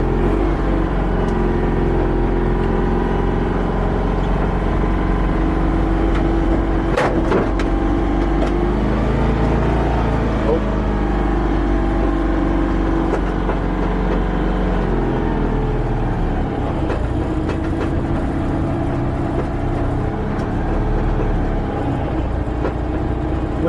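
A Citroën 2CV on the move, its small engine droning steadily from inside the car with rattles and clunks, the pitch rising and falling as it changes speed.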